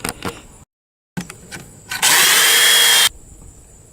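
A power drill boring pocket holes in wood during a sofa bed build runs in one loud, steady burst of about a second, with softer clicks and handling of the workpiece before and after.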